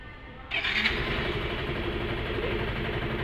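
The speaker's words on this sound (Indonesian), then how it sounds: "Kita cek mesin menyala lagi." A motorcycle engine starts and runs, heard during a lighting and wiring repair job. After a short quiet moment it catches, then settles into a steady, fairly loud running drone with no talk over it.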